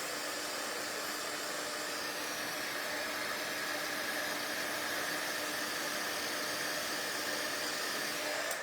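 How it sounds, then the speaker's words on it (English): A heat gun blows steadily during heat embossing for a stamping craft project, a constant loud whooshing hiss with no break and no talking over it. "Heat embossing"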